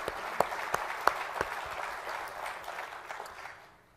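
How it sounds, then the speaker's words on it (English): Conference attendees at a general session applaud a sponsor, a brief room-filling round of clapping with a few distinct near claps, tapering off at the end. "please join me in a round of applause for JLG for their contributions today."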